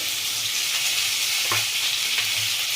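Ivy gourd frying in a pan, a close, steady sizzle with soft stirring scrapes and small crackles throughout.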